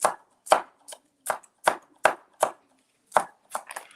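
Onions being chopped with a knife on a cutting board for an air fryer frittata: about a dozen crisp, close knocks in an uneven rhythm, with no voices.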